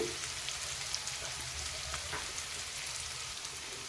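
Onion rice masala sizzling steadily in a pan, a dense continuous frying hiss with faint scattered crackles and no voices.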